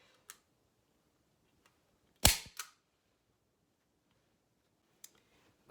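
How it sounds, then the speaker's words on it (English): A staple gun fires into painter's canvas fabric stretched over a chair, one sharp loud snap followed by a smaller clack, with a few faint clicks around it in a quiet room. "go ahead and staple all of that fabric into place"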